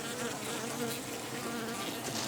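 Dense, steady buzzing of many bees at log hives, close and continuous throughout with no talk.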